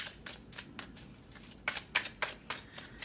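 Tarot cards being shuffled at close range, a rapid series of crisp riffling flicks that quicken and grow louder toward the end, with no voices.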